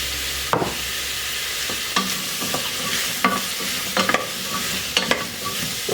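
Chopped vegetables sizzle steadily in a hot pan for a hearty five-vegetable bowl, with several sharp stirring scrapes and tosses breaking through the constant frying hiss.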